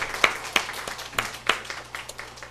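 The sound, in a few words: congregation applause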